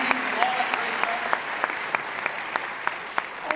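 An audience applauds for the AV crew who handled the computers, technology and sound cues at a live presentation, a steady wash of many clapping hands with sharp individual claps standing out at a regular pace, fairly close and loud.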